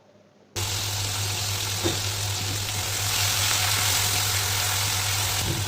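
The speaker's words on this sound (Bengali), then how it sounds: "একটি টমেটো 8 খণ্ড করে রেখেছি, সেটা দিয়ে ভেজে নেব সামান্য পরিমাণ লবণ দিয়ে।" Tomato cut into eight pieces frying with a little salt in a pan for a Bengali katla fish curry, a loud steady sizzle that starts abruptly and holds throughout, with no talk.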